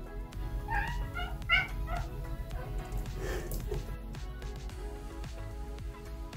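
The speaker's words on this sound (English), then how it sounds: "If you hear anything in the background going, it's my cat." A pet cat meows a few times in the background of a quiet indoor room, short rising calls clustered early on, then the room settles into a low steady hum.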